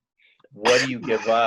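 A single short sneeze near the start, soft and close, followed immediately by someone speaking in a podcast setting.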